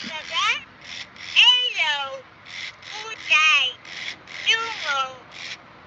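A high, squeaky electronic baby voice from a Furby toy babbles in short phrases with rising and falling pitch, toy-like and fairly close.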